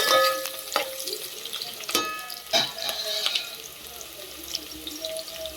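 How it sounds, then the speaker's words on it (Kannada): Onions sizzling in hot oil and ghee for mutton dum biryani, with a bright, loud frying hiss broken by sharp stirring clatters and scrapes, up close and without talk. "ಈಗ ಎಣ್ಣೆ ಮತ್ತು ತುಪ್ಪ ಕಾದಿದೆ. ಸೊ ಈಗ ಈರುಳ್ಳಿ ಹಾಕ್ತಾ ಇದ್ದೀನಿ ಇದಕ್ಕೆ."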